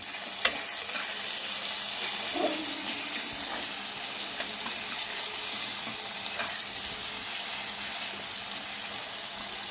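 Mixed vegetables being stirred in hot oil, with a steady sizzle and frying hiss running throughout and occasional soft clinks of a utensil in the pan.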